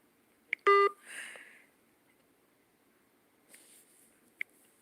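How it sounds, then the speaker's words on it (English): Phone text message notification, a short bright multi-tone chime near the start followed by faint blips and a quiet rustle, otherwise near silence with no talk. "somebody just texted me"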